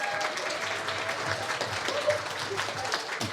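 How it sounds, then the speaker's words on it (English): An audience applauds a panelist at an art talk held at Motoworld, with steady, dense clapping from a crowd that carries on evenly throughout and a few indistinct voices mixed in. "Ladies and gentlemen, a round of applause for Miss Regina LaVega."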